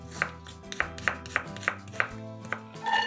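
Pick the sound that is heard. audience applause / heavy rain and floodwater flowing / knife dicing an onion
knife dicing an onion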